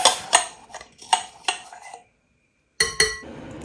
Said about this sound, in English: Let's whack this paste into the beef.